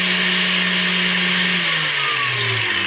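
A steady, loud high-pitched whine of a power drill running continuously, with the motor's pitch dropping slightly near the end.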